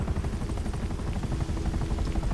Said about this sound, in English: They're gonna keep sending these helicopters at us, one after another.